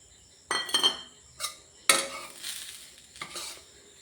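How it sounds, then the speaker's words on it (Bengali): Semolina and a bay leaf frying in a wok, stirred with a utensil: a few distinct scraping, clinking strokes against the pan over a faint sizzle, close and fairly quiet, with no talking. "সুজিটাকে খুব ভালোভাবে ভাজা করে নেব, লাল করে সুজিটাকে ভেজে নিতে হবে।"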